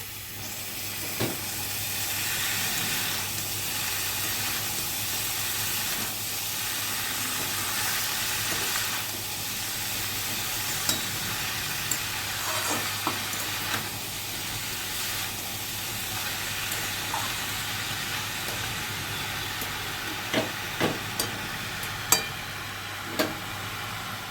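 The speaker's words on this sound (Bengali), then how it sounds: "মোচাটা দিয়ে খুব ভালো করে মশলার সঙ্গে নেড়ে নিতে হবে।" Banana flower frying with spices in a pan makes a long, steady hissing sizzle, marked by scattered clicks and scrapes of stirring over a faint constant hum.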